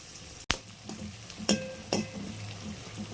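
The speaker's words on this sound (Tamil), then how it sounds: "இது வந்து நல்லா அப்படியே கோல்டன் ப்ரௌன் வர அளவுக்கு நல்லா ஒரு வதக்க வதக்கலாம்" Sautéing in a pan over a medium flame, a moderate sizzle broken by a few clanks of a spoon against the pan, no talking.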